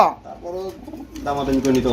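Pigeons cooing softly close by at a bird market, their low throaty calls running under a man's speech in a busy setting.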